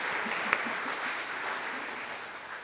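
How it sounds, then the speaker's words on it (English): Audience applause after a live music performance at an Ethical Society morning gathering, a steady dense clapping from a crowd that holds at an even level throughout with one sharper clap standing out early. "Can we have another round of applause?"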